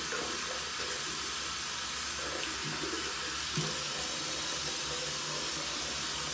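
Tap water runs steadily into a sink as it warms up before a wet shave, a continuous close hiss and splash with no talking over it.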